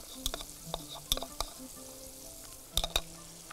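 Fish and onions fry in a pan as curry is added to make the sauce, with quiet sizzling broken by several sharp utensil clicks and scrapes against the pan.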